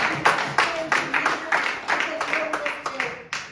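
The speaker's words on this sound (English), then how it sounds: "let us clap hands for God" A church congregation at a baby dedication service claps hands in a steady rhythmic beat, close and moderately loud, with voices faintly underneath.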